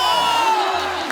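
Brief burst of crowd cheering and whoops from an audience on a Hindi talk show welcoming a women's cricket team, loud and close with shouting voices over it.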